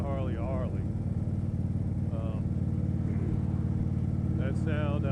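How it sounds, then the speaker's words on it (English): A Harley-Davidson 45-degree V-twin motorcycle engine idles with a steady, uneven pulsing beat close by, running continuously while a person talks over it. "That sound, that lumpy idle, is driven by the firing order of the 2 pistons."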